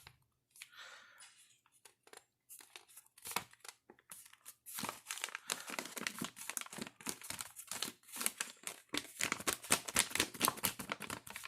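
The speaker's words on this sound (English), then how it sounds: "we're going to make another diagonal fold right here" Origami paper is folded diagonally and creased for a sunflower model, producing rapid, close crinkling and crisp rustles that grow busier and louder as the folding goes on.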